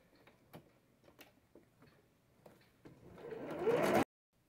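A sewing machine stitches the fabric fin of a fish-shaped pencil holder, starting with faint scattered ticks and then building into a loud, steady mechanical whirr for about a second before it stops abruptly.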